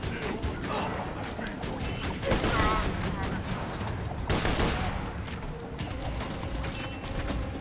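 Gunfire from shooting enemies in the video game Borderlands 2, a sustained burst of rapid loud shots with mechanical clatter and impacts running throughout, close and dense.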